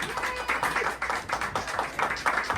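A small audience gives a round of applause for the actors after a talkback, light scattered clapping in uneven rhythmic bursts, fairly faint and close, with some voices mixed in.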